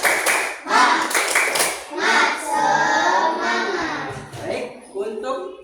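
A school class claps a quick rhythmic pattern in bursts, followed by children's voices chanting together loudly and close.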